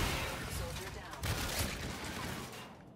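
Enemy gunfire in the video game Call of Duty: Infinite Warfare, a dense continuous crackle of rapid shots throughout, loud and sustained with brief louder bursts.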